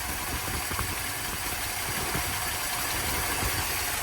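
A 1962 Dodge D200 pickup engine idles steadily while warming up, a constant close mechanical drone with a faint knock, no voices and little change over four seconds.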